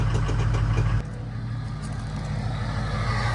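A car engine with a freshly cleaned turbo rumbles roughly after two minutes of cranking, then settles abruptly into a steady idle that continues close by.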